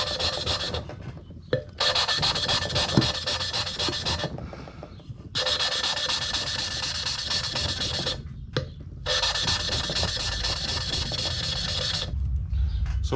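Engine valves lapped with grinding compound while building a 360 engine, giving a steady close rasping, rubbing grind in long bursts broken by brief pauses where the valve is lifted and reset.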